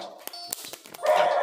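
Dogs in a Flippy mod game running on a Galaxy A10s phone let out a few short, sharp barks and yips within a brief stretch, followed by a rougher burst of noise.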